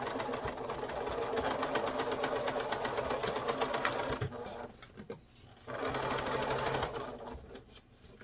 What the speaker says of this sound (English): I'm going to sew a seam that is 1/4 inch deep